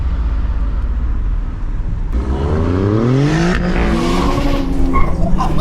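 A 700 bhp rear-wheel-drive Honda Civic's engine roars as tires squeal, revs climbing steeply while the rear end skids, loud and close over a steady rumble.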